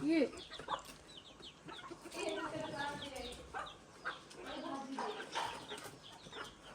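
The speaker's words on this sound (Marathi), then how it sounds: "पांढरा डॉन बघ डॉन पलतोय का ए डॉन भरपूर आहेत कोंबडी" Several chickens cluck and chatter nearby, their calls overlapping with people talking throughout.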